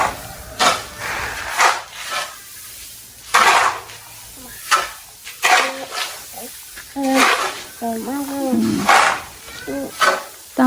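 Steamed rice for traditional Chiang Tung-style white rice liquor being scooped and turned over by hand, heard as repeated soft scraping and knocking strokes at an irregular pace, close by, between stretches of people talking.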